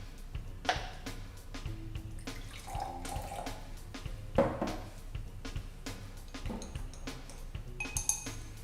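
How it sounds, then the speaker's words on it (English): Water poured and stirred into milk tea syrup in a glass, splashing and trickling with clinks of a utensil against the container, close and fairly quiet. "let us mix the milk tea syrup and water"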